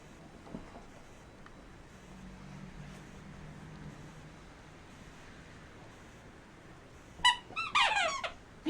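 A dog's squeaky toy gives a quick cluster of sharp, high squeaks near the end of a long quiet stretch filled with soft background noise.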